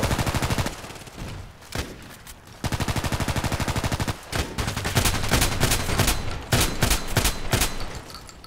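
Gunfire rings out in the video game Contract Wars: rapid bursts of loud, close pistol and automatic shots in quick rhythmic runs, then scattered sharp single cracks toward the end, with no talking.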